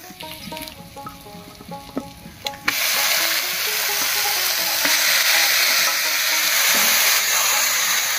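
Boiled chalkumro greens drop into hot oil with fried garlic and green chilli, bursting into a loud, steady sizzle after a few light clinks of utensils.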